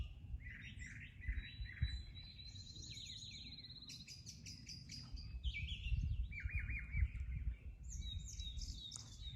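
Birds chirping and singing along the Appalachian Trail, with varied whistles, trills and tweets from several birds overlapping over a faint low outdoor rumble, moderately distant.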